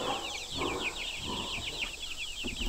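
Homestead hens cluck and murmur in short bursts over a steady high chorus of insects or birds, close and moderately loud, with no talking.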